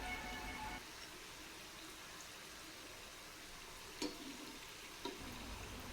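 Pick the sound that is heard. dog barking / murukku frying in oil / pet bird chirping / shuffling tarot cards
murukku frying in oil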